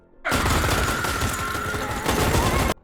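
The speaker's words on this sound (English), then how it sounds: "Facundo shoots the man, but he just jumps awake, so they all empty their guns into him." A burst of gunfire from several guns in a film as a man is shot again and again, a dense, loud, continuous fusillade of overlapping shots lasting over two seconds before cutting off abruptly.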